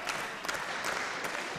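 A wrestling crowd at a live show claps and cheers in a steady, distant wash of noise, with a few sharper bursts of clapping standing out.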